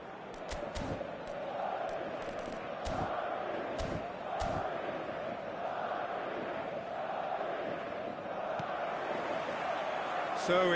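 A stadium crowd in the eFootball 2025 football video game roars steadily throughout at a capacity match, forming a dense continuous wall of noise with a few sharp clicks and thumps.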